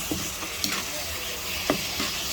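Skinless longganisa sizzling in spaghetti sauce in a frying pan, a steady hiss with a few soft scraping stirs of a utensil, close and continuous with no talking.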